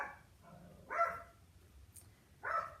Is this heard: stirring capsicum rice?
no